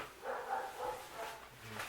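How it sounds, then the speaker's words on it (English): A dog barks a few times outdoors, faint and somewhat distant, the short yips spaced across a couple of seconds against quiet background. "You can hear my dog barking."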